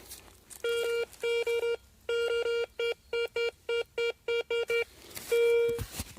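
A metal detector signals a Soviet coin in a forest with a series of short, broken, low electronic beeps in quick bursts, loud and close, ending with one longer tone.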